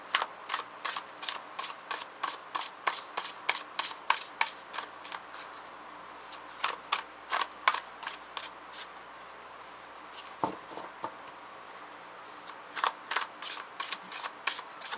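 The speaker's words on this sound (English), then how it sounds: "I'm going to go ahead and put all the cards out" Tarot cards are laid out on a table, making a quick run of crisp card snaps and slaps at an even rhythm. The cards sound close but soft, with a short pause before another burst of flicks.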